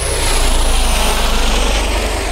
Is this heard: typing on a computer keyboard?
no